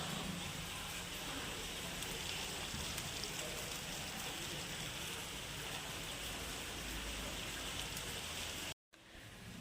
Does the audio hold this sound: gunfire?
no